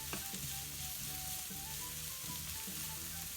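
Carrots sizzle and crackle steadily in a hot frying pan, with occasional stirring scrapes and no voices.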